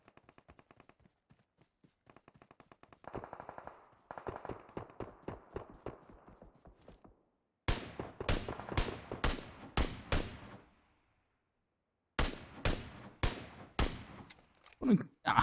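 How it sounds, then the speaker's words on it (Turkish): Gunfire rattles through a video game firefight in bursts, with quieter, scattered shots early on and then louder, sharper volleys and single cracks later, all fairly distant and unaccompanied by talk. "burada da bir çatışma sesi var"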